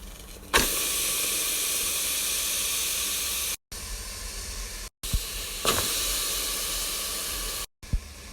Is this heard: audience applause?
no